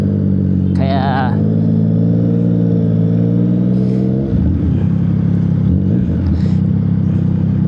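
Yamaha MT-09 SP with an Austin Racing aftermarket exhaust and remapped tuning idles loudly up close, a steady burbling throb with a brief blip partway through, under someone talking.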